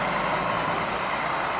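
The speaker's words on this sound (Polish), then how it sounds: "Autobusik przyjechał z wycieczką" A tour bus pulls in at a petrol station, its engine a steady broadband rumble, close and continuous with no pauses.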